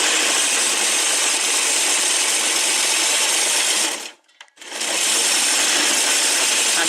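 A sewing machine runs continuously stitching a seam, a loud, close, whirring buzz that breaks briefly for a moment before resuming at the same steady speed.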